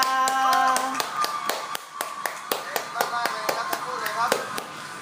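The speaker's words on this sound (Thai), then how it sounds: "ขอเสียงปรบมือดังๆนะครับ" Clapping for child contestants in a battle round of The Voice Kids Thai: a steady series of separate, sharp hand claps at a brisk even pace, with voices behind them.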